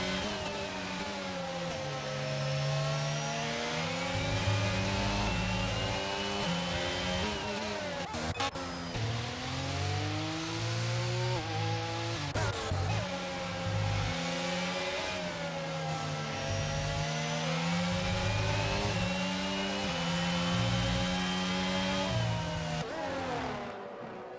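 Race car engines from a sim racing game at the Hungary round, several cars revving and shifting continuously at close range, with steady layered engine whine throughout.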